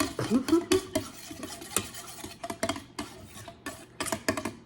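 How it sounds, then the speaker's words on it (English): A knife mixing breakfast ingredients in a bowl, with irregular close clinks and scraping strokes against the dish over a quiet background. "since I have a knife right here, I'm just gonna be using the knife to mix it"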